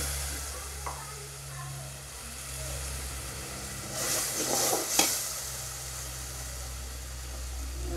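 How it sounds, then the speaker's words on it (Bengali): Water is splashed into hot frying oil for a Noakhali-style duck egg and koi fish dish, with a sudden hissing sizzle that swells near the middle and then settles back to a steady background hum. "তেল হালকা একটু ভাজি করানোর হরে আমরা একটু হানি দিলাম।"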